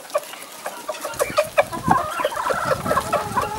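Chickens, including a speckled rooster, cluck repeatedly at a waterside farmyard, a steady stream of close, overlapping clucks and short calls with no talk.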